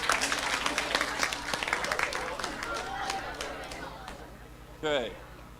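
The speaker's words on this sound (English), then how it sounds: "Round of applause." School assembly audience applauding a World Book Day prize winner, a scattered burst of clapping from many students that fades over a few seconds, with voices murmuring and a brief vocal sound near the end.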